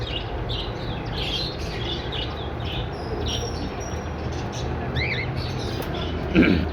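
Pet birds in a bird shop in Pakistan give a steady chorus of small, high chirps and tweets over a constant low room hum, with a brief louder knock near the end.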